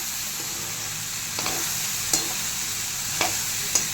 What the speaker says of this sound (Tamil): தேவையான அளவுக்கு கல் உப்பு போட்டுக்கிறேன் நல்லா கிளறி விடுங்க காயை